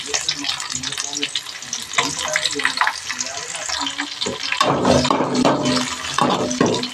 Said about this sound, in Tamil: எண்ணெய் காய்ஞ்சதும் கடுகு போட்டு தாளிச்சிக்கலாம் கருவேப்பிலை அடுத்து சின்ன வெங்காயம் பச்சை மிளகாய் கொஞ்சம் போட்டுக்குவோம்